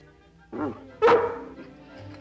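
Cartoon dog Lassie barks twice in quick succession, sharp and close, with a faint voice-like murmur around it in an old animated episode.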